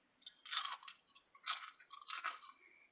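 Three close bursts of crunchy chewing, each a few crisp bites, separated by brief quiet pauses.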